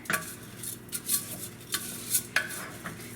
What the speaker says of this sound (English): Add a little bit of butter. And then just kind of stir it in there.